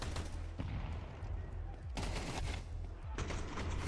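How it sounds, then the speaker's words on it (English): Tec-9 gunfire rattles in a video game drive-by, quick bursts of rapid shots layered with other weapon fire and game noise, fairly dense and close. "that's the definition of a Tech 9 drive-by."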